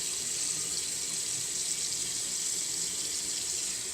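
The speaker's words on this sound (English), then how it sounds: "now let me rinse off real quick" Tap water runs steadily into a sink while someone rinses off after a shave, a close, even rushing hiss with no pauses and no talking.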